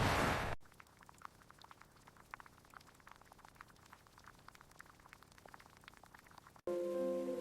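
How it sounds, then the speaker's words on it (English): Rain during a thunderstorm patters steadily on a surface as a soft, even crackle of drops, framed by brief louder bursts of other sound at the start and end. "Wow, it's raining."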